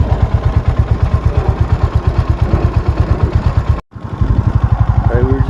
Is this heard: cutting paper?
no